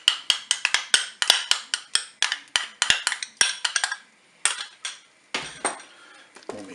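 Crème fraîche is stirred into chicken paupiettes inside a Cookeo electric pot: a rapid run of sharp metallic clinks and scrapes of a utensil against the pot, steady and close, then a brief pause before a few more knocks.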